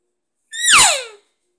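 A cow elk answering her calf is imitated on a handheld elk call as one louder, longer mew that starts high and slides down in pitch, close and with nothing else around it.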